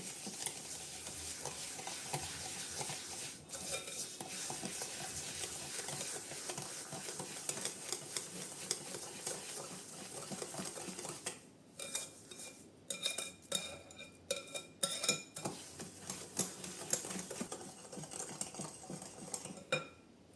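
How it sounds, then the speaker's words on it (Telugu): Eggs and sugar beaten with a beater for muffin batter, a steady whisking whir in a bowl that turns into rapid clinking and tapping against the bowl partway through, fairly quiet throughout. "దీన్ని ఇప్పుడు బీటర్తో బాగా బీట్ చేసుకోవాలి"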